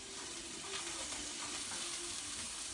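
Onions frying in a hot pan for venison steak fajita quesadillas, a steady close hiss of sizzling oil with faint tong-stirring scrapes running through the whole stretch, no talk.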